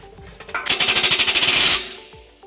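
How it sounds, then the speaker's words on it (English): A 15mm socket loosening the muffler clamp on a 2008 Nissan Altima is most likely driven by an impact tool, a loud rapid hammering burst of about a second, close and mechanical, trailing off as the tool stops. "we're going to loosen up this clamp right here using a 15mm socket"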